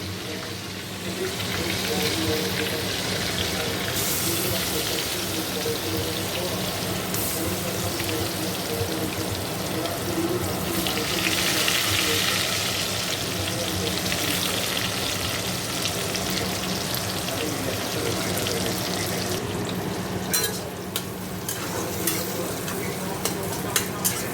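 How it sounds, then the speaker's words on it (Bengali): Onions fry in hot oil in a pan for a soya paratha filling, a continuous loud close sizzle with occasional stirring scrapes, and a few sharper knocks of the spatula toward the end. "তো চলো এখন আগে পেঁয়াজটা দিয়ে দেবো।"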